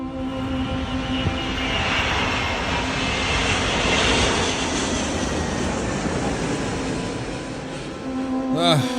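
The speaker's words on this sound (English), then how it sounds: "the Airbus A380, the biggest passenger aircraft in the world" An Airbus A380 passenger jet flies past with a loud, steady broadband engine roar and whine that swells and holds, with a voice briefly audible near the end.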